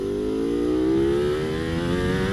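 Ducati Panigale V4 SP2 motorcycle pulling hard in first gear, its engine note climbing steadily in pitch as it accelerates, loud and close throughout with no talking.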